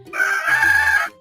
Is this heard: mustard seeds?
no